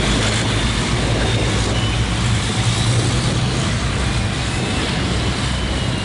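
Racing trucks circling a circuit after a messy first corner, a steady loud rumble of heavy engines at a distance, continuous throughout with no talk.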